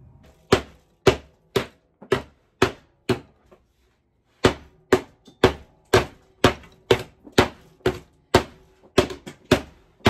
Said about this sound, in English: Or you can use a hammer to tap the circle out of the drywall.